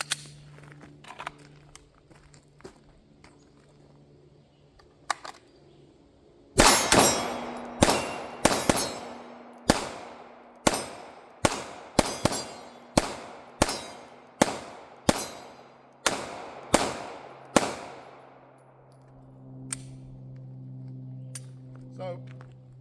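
Rapid series of Glock 47 9mm pistol shots, each followed by a bright metallic ring off steel targets, about fifteen reports in an uneven cadence at close range, with quiet outdoor pauses before and after.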